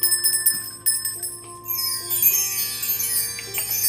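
Chimes ring out with bright, shimmering tones, a few scattered strikes early on and then a sustained cascading shimmer from the middle onward, moderately loud and with no talking.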